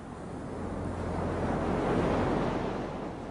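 Surf washing onto a beach on the African shore of the Red Sea, a steady broadband roar of breaking waves swelling and easing, with some wind buffeting the microphone.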